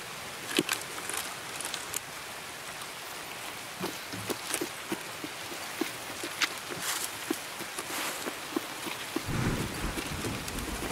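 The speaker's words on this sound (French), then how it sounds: "Et il pleut!" Rain falling in a PC survival game, a constant hiss of rainfall with scattered sharp drops and footsteps, with a low rumble near the end.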